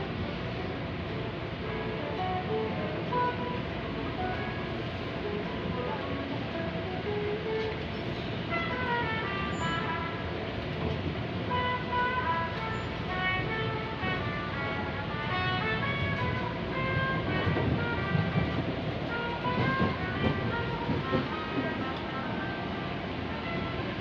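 A commuter train pulls out of Manggarai station on the Bogor–Jakarta Kota line at night, its steady rumble and rolling hum filling the car with faint tonal whines and a distant horn-like toot, no talk over it.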